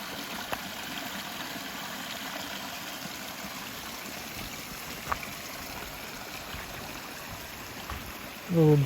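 Along a rocky portage trail in Algonquin Park, a small brook flows with a steady, even rush of running water, with a brief louder rumble at the very end.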